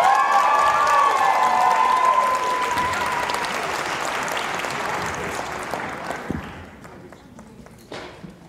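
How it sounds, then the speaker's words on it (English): A school concert crowd applauds a middle school band director, with loud clapping and a few cheers right after a voice at the start, then the applause slowly fades to scattered claps. "Please give him a big round of applause."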